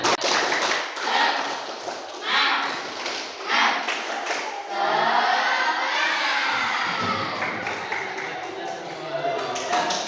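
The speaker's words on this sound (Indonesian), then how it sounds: "Tepuk semangat" Students in a class do a rhythmic spirit clap, bursts of patterned clapping mixed with loud children's shouting and chanting close by.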